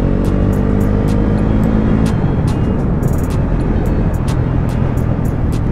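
A KTM RC390 motorcycle with throttle-by-wire rides along an expressway, its engine a steady loud drone under heavy wind rush that holds constant for the whole stretch with no talk.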